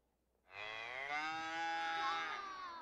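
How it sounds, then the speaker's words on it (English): A single cow moos in one long, loud, drawn-out call that holds steady for over two seconds, with no voices over it. "A cow."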